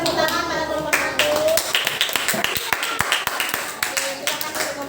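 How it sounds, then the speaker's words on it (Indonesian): A classroom of pupils claps for group 1 in a primary school lesson, a burst of loud sharp hand claps close by, mixed with children's voices. "berikan tepuk tangan pada kelompok 1"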